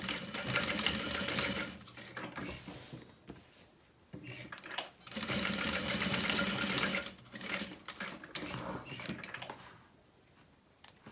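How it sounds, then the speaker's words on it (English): A sewing machine stitches above the slit on a handbag strap connector, running in two long close bursts and a shorter third run, separated by brief pauses. "You want to stitch above the slit on the strap connector."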